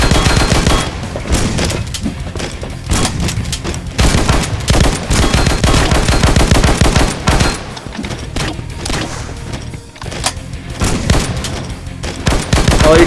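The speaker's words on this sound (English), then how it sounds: "They shot through the wall." Constant heavy gunfire in the horror survival game Slendytubbies, with a dense barrage of shots and booms that stays loud through the whole stretch and never drops away.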